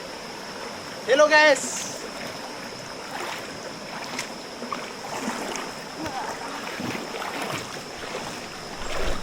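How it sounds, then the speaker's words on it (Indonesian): Water rushes steadily from a stream at the top of a waterfall at the northern foot of Mount Rinjani on Lombok, a constant broadband wash with a man's brief greeting near the start. "Sekarang kita berada di atasnya air terjun."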